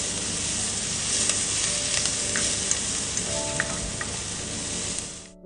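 Finely chopped onions sautéing with fennel seeds in hot oil, giving a loud, steady sizzle and crackle throughout with occasional stirring clicks.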